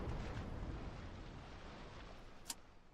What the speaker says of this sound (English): Bro, did that guy just triple mortar me?